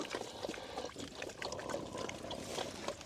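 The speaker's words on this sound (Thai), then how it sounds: "นี่จะเทใส่ถาดไว้ให้อยู่" Feed being poured into a tray for mixed-breed wild boar pigs kept behind a farm garden, a steady granular pouring and trickling rush that runs continuously at moderate level.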